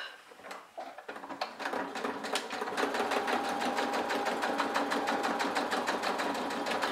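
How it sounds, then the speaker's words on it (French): A sewing machine stitching fabric for a makeup pouch runs at a steady, rapid clatter after a short stop-start beginning, close and loud, with no talk over it. "il me reste à coudre jusqu'à ma pince ici."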